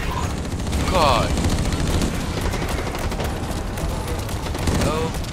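Rapid gunfire from the first-person shooter Blacklight Retribution in a Kill Confirmed match: dense, sustained bursts of automatic shots mixed with impacts, steady and loud throughout, with a player's voice over the shooting.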